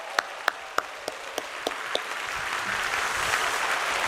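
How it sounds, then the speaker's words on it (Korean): A church congregation claps to welcome visiting missionaries at a Sunday service, starting with a few sharp separate claps before swelling into broad, sustained applause that fills the room. "우리 화면 비춰주시면 우리 박수로 우리 사랑을 담아 선교사님 환영하겠습니다"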